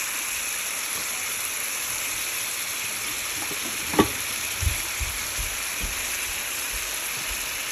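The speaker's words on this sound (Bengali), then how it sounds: "মাছগুলোকে দিয়ে এটাকে আমি আরও ভুনা ভুনা করবো, আর কি ঝোলটাকে শুকাই করবো" Fish cook in a thick curry gravy being fried dry in a pan, giving a constant close sizzle with a few clinks and taps of a spatula against the pan partway through, and nobody speaking.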